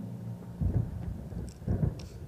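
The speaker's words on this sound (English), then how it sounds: "There's a storm coming. Oh, what a storm." Thunder from a storm in the video game Alan Wake: two deep rumbling rolls about a second apart, moderately loud, with faint rain hiss in the background.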